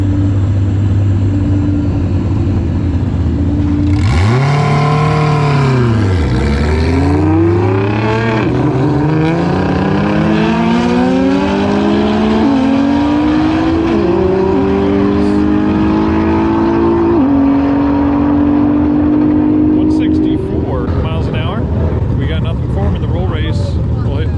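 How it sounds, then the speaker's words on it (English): Loud engines roar and rev hard in a night roll race with a Nissan GT-R, their pitch climbing in repeated sweeping surges as the cars accelerate, with a constant heavy rumble underneath. "Fastest roll race car out here tonight is David's GT-R here on the right hand side"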